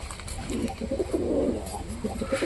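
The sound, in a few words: pigeons cooing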